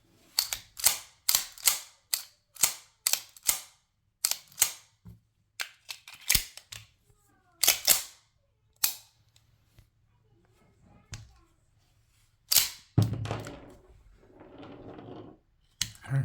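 A Les Baer Monolith 1911 .45 ACP handgun is worked by hand, giving a run of crisp, close metallic clicks and clacks in irregular bursts, some sharp and loud, with a few softer handling rustles between them.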